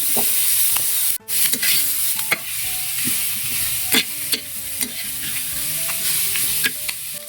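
Food fries loudly in a pan with a constant bright sizzle, broken by repeated scraping stirs and clinks of a utensil against the metal.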